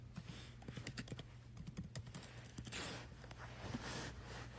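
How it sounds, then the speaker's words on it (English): Rapid clacking keystrokes on a computer keyboard entering a search query into Google, a close, irregular burst of clicks with short pauses, alone over a faint background hum. "And I'll type in add spy tools."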